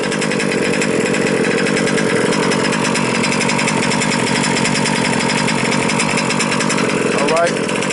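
A Losi 5ive B gas-powered RC car engine runs through a half-hour break-in heat cycle outdoors, a steady, buzzing two-stroke drone held loud and unbroken throughout.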